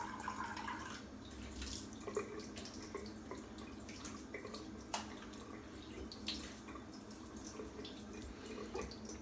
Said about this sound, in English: hold on, let me rinse off here.